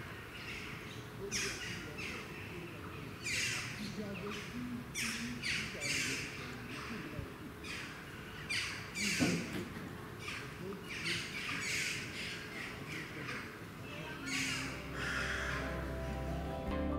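Repeated sharp, short jackdaw calls ring out at irregular intervals over steady outdoor background noise, some near and some farther off.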